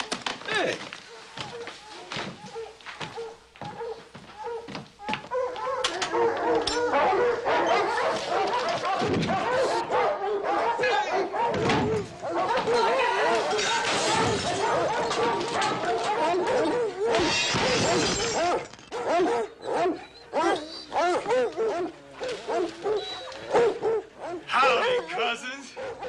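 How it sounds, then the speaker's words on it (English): Hounds bay and yelp in a loud stretch of barking and howling, mixed with crashing clatter, while people talk over it in an old Western television scene. "sounds like hounds baying, don't it?"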